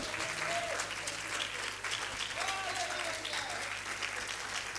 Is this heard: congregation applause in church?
yes